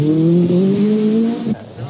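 A Peugeot rally car driving hard on a World Championship rally stage, its engine tone holding steady then dropping sharply as it lifts off, loud and close for a brief moment.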